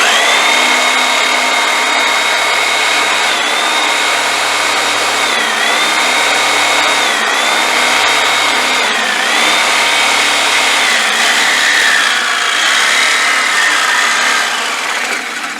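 A Sawzall reciprocating saw cuts into the exhaust silencer of a Land Rover Discovery 2, a loud, close, continuous buzzing rasp of blade on metal that holds steady for the whole stretch with slight pitch wobbles.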